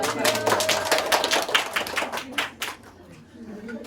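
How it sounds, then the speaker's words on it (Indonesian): Hands clap in a classroom, a dense burst of claps from a group of students that fills the first two and a half seconds and then thins out into a few scattered claps amid faint room noise. "Tepuk tangan dong."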